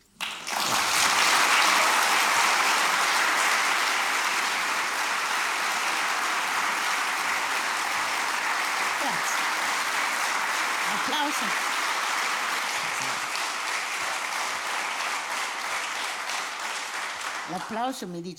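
Loud, prolonged audience applause swells at once and holds steadily for many seconds, thinning slightly near the end as a voice begins to return.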